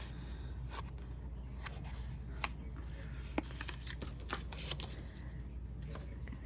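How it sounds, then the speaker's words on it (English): Paper gift bag for nail polish being folded and pressed along its score lines, a series of quiet crisp creases and rustles spread across the moment over a low steady background hum. "So let's go ahead and give those a fold."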